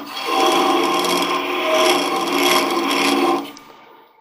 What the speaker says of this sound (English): I've also got one edge of the wrench sharpened, so it'll actually work like a scraper and cut down a little bit.